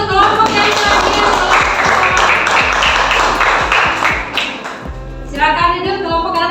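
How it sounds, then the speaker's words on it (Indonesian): A classroom group applauds for several seconds, dense and loud clapping nearby, then it tapers off as voices take over. "berikan tepuk tangan untuk kelompok yang selanjutnya"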